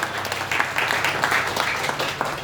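Congregation clapping during a Christmas church service, a dense, steady wash of applause filling the full short stretch at moderate level.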